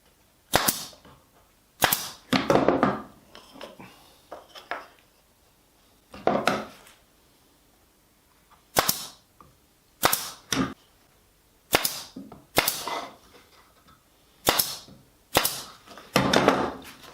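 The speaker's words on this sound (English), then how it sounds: "Now we're just going to put them together with the pin gun." Pin gun firing into a wooden Queensland maple box during assembly, giving a series of sharp, loud pneumatic snaps, single and in quick pairs, with short quiet gaps between them.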